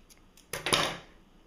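Scissors snip through yarn strands for a doll wig, giving one or two quick, close, crisp cuts in a short, otherwise quiet moment.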